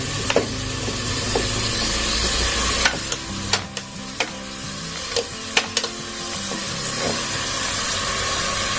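Onions, green chillies and tomato fry in a hot pan while being stirred, a loud steady sizzle broken by repeated sharp scrapes and taps of the spoon, with no voices.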